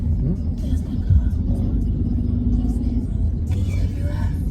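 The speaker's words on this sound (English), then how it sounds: "There's the car." A car rolls past nearby on a quiet lockdown street, a steady low engine rumble swelling briefly under background voices.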